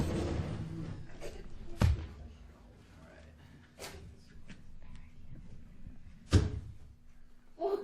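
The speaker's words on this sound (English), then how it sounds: "So I bet with this vortex generator that we could put out a match" A vortex generator fires air puffs at a lit match during a physics demonstration show, heard as two sharp, isolated thumps a few seconds apart over quiet room noise and faint voices.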